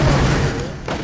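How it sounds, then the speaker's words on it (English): Video game gunfire crackles in a dense, continuous burst close up, with a heavier thump near the end and a voice faintly under the shooting. "Hey, who's shooting me up, man?"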